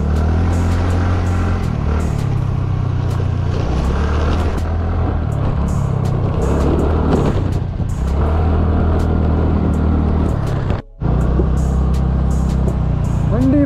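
Busy road traffic in Mandi market, heard from a rider in the tourist-season crush: a steady, loud drone of engines and rumbling vehicles that continues throughout, with no talking.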